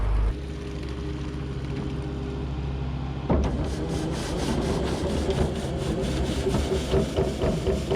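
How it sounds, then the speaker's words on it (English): A skid loader engine runs steadily at a bunker silo during a corn silage harvest, a low continuous idle joined partway through by rougher scraping, rubbing mechanical noise close by. "I'm just going to get our sweeper attachment on the skid loader and clean up this mud a little bit at the end of the bunker."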